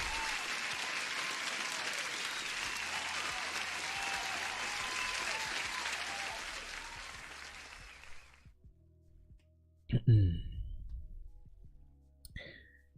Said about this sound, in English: Huge applause to Saeed.